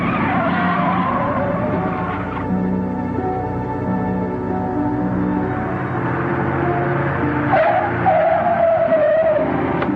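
An old 1949 car brakes hard and its tires squeal and skid in a long, continuous screech under a running engine, with the squeal rising sharply just before it stops.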